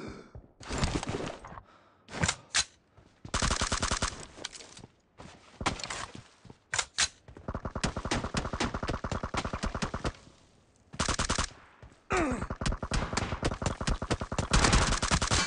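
Repeated bursts of automatic M416 rifle fire in the shooter game PUBG Mobile, played on an iPad in a 1v1 match: sharp rapid volleys separated by brief pauses, loud and close, with long sustained sprays toward the end.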